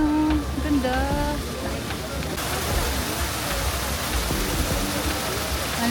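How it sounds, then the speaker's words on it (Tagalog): A public fountain in Rome splashing steadily outdoors, a dense continuous rush of falling water with voices of passers-by faintly audible beneath it. "Yan ang fountain nila, guys."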